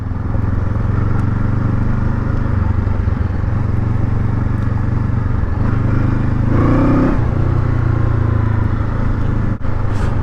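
A Honda CL500 motorcycle rides off-road with a steady, loud engine drone that swells briefly partway through, heard close and continuous throughout.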